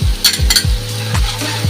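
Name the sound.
chopped tomato frying with onion in a pan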